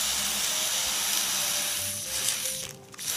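Steady hiss of lubricant being sprayed onto a motorcycle clutch cable on a Serow 250, continuous and close with no speech, fading slightly near the end.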